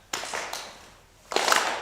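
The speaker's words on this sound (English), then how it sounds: "And now we're going to do the union clap" A church congregation claps in unison at a service, three sharp group claps spaced apart with the last one ringing out longer, fairly close and loud.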